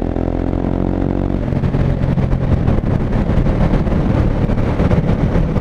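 Husqvarna 701 Vitpilen single-cylinder engine rumbling and revving under throttle blips, close and loud throughout, with wind buffeting the microphone.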